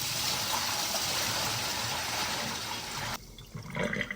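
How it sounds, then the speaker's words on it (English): Water from a hydroponic garden tank pours steadily into a kitchen sink, a loud continuous rushing splash that cuts off abruptly near the end, followed by brief gurgling. "Now we're gonna empty it into the kitchen sink."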